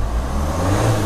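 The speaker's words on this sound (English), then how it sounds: "The engine revs good." A Hyundai engine with an EGR valve fault (P0404) revs steadily, a close, loud droning hum that climbs slightly over one second with no talk.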